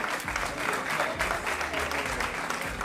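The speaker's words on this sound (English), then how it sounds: "Give them another round of applause." Audience applause in a motivational seminar, steady dense clapping filling the whole moment, fairly close, with faint voices mixed underneath.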